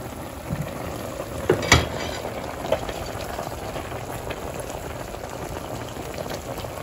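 Onion cooks in a pot as the start of a stewed northern hare, a constant bubbling sizzle with a few louder clinks and pops near the start, no talk.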